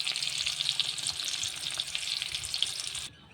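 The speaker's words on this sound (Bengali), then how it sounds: "পেঁয়াজ কুচি দিয়ে দিয়েছি।" Chopped onion sizzling in hot oil in a pan, a steady close crackling fry that runs for about three seconds before cutting off abruptly.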